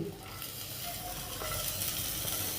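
Cabbage and ginger sautéing in a pan for ragi soup, giving a dense, continuous close sizzle and hiss that stays steady throughout.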